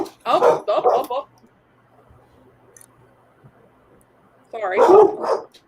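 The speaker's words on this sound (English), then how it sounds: "I'm sorry the dogs are barking." Dogs barking loudly near a home beside a road, a quick run of sharp barks, then a near-silent pause, then another loud burst of barking.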